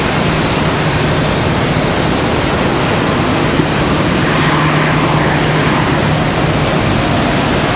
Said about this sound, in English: this one, American Airlines 748 off to Madrid